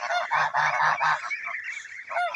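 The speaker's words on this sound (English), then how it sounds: "The geese are growing unbelievably fast." Geese honk nearby in a quick series of loud, nasal calls, then a few softer honks.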